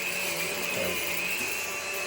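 Rattling from inside a running Henry Quick cordless vacuum cleaner, a steady close-up mechanical clatter over the motor's constant whir, with no talking.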